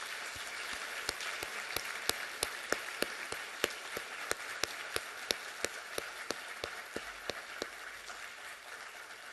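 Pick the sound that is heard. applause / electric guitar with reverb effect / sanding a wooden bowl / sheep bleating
applause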